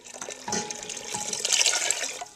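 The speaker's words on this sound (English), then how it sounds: "Now I'm going to add 4 cups of water." Four cups of water pour into a pot for homemade organic potato soup, a continuous splashing gush that swells louder toward the end and then stops, with no talk.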